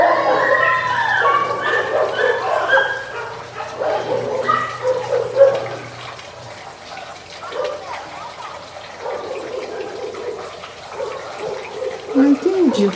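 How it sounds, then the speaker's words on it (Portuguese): Dogs outside barking, yipping and whimpering as if in a fight, fairly distant, with a voice talking over much of it. "Mas parece que um cachorro foi tipo atacado por outro."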